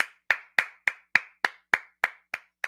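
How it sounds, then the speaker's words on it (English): A single person claps about ten times in a steady, even rhythm, each clap sharp and close, with nothing else heard. "Clap it up. Clap it up."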